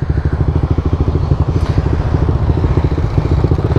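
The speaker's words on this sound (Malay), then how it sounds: "Oh motor besar hati-hati lah" A big motorcycle engine rumbles close by with a steady, pulsing throb, loud and continuous for several seconds, with no voices over it.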